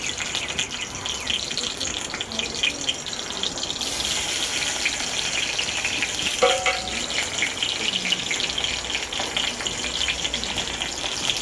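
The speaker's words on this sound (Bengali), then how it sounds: "প্রথমে আমি তেল দিলাম আর একটা শুকনো লঙ্কা দিলাম মানে ফোড়নে" Dried red chilli and garlic are fried in hot oil to temper greens, giving a steady close sizzle and crackle with a faint stir or clink partway through, and no talk over it.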